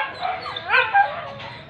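A dog gives a short string of faint, high yelping whines and yips at some distance, thin and wavering over a steady background hiss.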